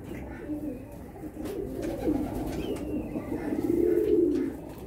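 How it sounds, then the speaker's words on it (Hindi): Medium-sized pigeons held in the hand give soft, low, throaty coos that swell and fade, the last one louder and longer, with faint handling rustle and background noise. "ये छोटे नहीं है माशाल्लाह से दरमियाने साइज़ के कबूतर है"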